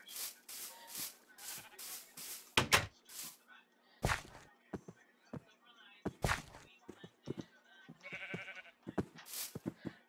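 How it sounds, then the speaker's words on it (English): Sheep bleating in the Minecraft video game, several short cries repeating unevenly up close alongside clicks and thunks from gameplay, with a player talking intermittently. "So I'm gonna bring my sheep into here."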